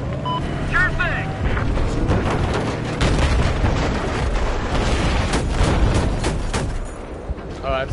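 Heavy booms and rumbling blasts of a tank firing and explosions in a video game roll continuously under a dense layer of battlefield gunfire, loud and close, with voices faintly mixed in.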